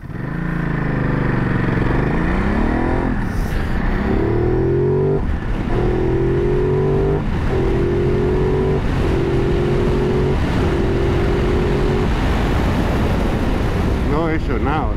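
A Ducati Multistrada in sport mode accelerates hard through first gear, its engine note climbing in pitch with brief dips at each throttle change, loud and close with heavy wind rush throughout.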